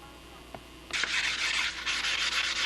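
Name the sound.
sanding model aeroplane parts with a sanding block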